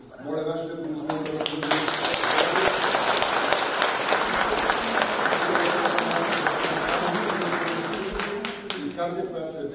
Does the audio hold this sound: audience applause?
yes